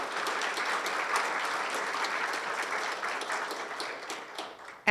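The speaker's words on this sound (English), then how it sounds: "so let's give him a round of applause" Steady audience applause at a chamber of commerce State of the City event, a thick, even round of many hands clapping that tapers slightly near the end.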